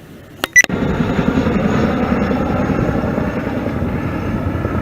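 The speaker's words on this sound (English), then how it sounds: "Chinook flying over Stonehenge." A Chinook helicopter flies over Stonehenge, a steady, broad rotor roar that holds loud and constant for several seconds after two brief sharp knocks at the start.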